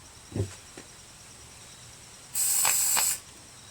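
An aerosol can of multi-purpose parts cleaner and degreaser sprays into the carburetor of a Craftsman dual-stage snow blower in one close, loud hiss lasting under a second, after a couple of faint knocks.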